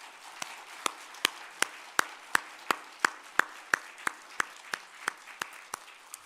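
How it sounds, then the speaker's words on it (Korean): Church congregation at a Korean Advent Christmas service clapping in unison, giving a steady rhythmic beat of about sixteen sharp, evenly spaced claps over six seconds, with a faint background murmur and no talk on top. "하나님께 영광의 박수로 올려드리겠습니다."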